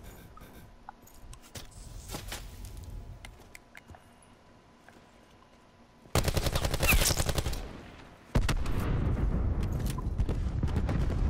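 Bursts of video game gunfire in a PS4 beta multiplayer shooter, rapid automatic volleys that grow loud and dense in the second half and come in two heavy stretches, with quieter scattered shots and game noise before them.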